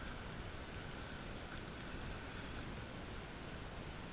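Steady hiss of rain falling outdoors on a lakeside hiking loop, a broadband wash with no distinct drops, constant and fairly faint throughout.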